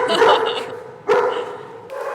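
Dog at an animal shelter giving two or three sharp barks with brief yips between them, close and loud.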